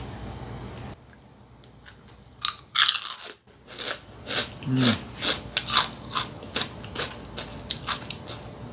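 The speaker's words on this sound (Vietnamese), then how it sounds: "Chiên xong rồi mình thử một miếng trước coi nó ra làm sao nha cả nhà." Crispy deep-fried pork skin bitten and chewed up close, a series of loud crunches in an uneven rhythm following a brief quiet start, with no talk.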